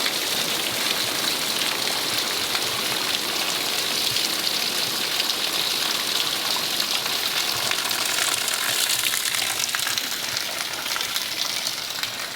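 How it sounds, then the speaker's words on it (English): Steady, dense rain pours down outdoors on dry ground, a continuous loud hiss of drops spread evenly across the whole stretch with no talking. "Well, that is real rain."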